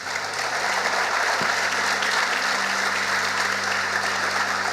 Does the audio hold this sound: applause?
yes